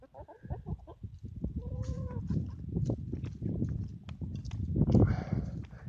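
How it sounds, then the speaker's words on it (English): Rooster and hens on a small permaculture farm, clucking and crowing calls scattered close by over a busy farmyard background, with a louder burst of bird calls near the end. "He's the rooster, Dracula."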